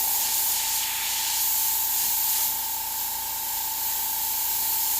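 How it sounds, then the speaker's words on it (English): An airbrush spraying paint on a skull artwork gives a close, continuous hiss with a steady high-pitched tone, dipping slightly midway as the trigger shifts, with no talking. "I personally use the entire throw of the airbrush from front to back all the time."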